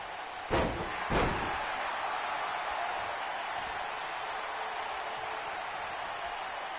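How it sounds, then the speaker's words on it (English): Wrestling crowd at a SuperNova Pro event roaring continuously in a large hall, with two sharp ring slams or impacts near the start standing out above the steady cheering. "Crowd behind Dynamite right now"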